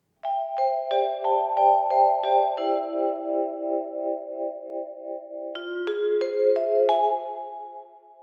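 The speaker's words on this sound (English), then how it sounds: "And that plays along with a vibraphone," A mellow vibraphone plays a gentle sequence of ringing notes that sustain and overlap, with a slight shimmer as the chords shift.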